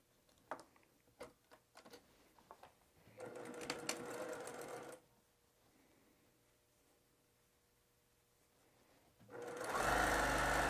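A sewing machine stitches a seam through fabric with right sides together. A few isolated clicks come first, then a quick rattling run of stitching. After a quiet pause, a second louder, steady burst of stitching is heard close by.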